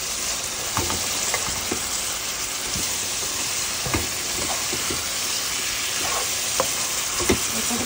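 Drumstick, potato and tomato sauté in spice masala in a pan, giving a steady close sizzle broken by repeated scraping and stirring knocks, with no talking.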